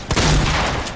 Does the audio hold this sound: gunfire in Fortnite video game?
yes